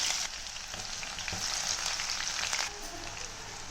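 Onions with curry leaves and coriander fry in hot oil for a chicken curry, giving a steady, close sizzling hiss that goes on without pause and softens slightly toward the end.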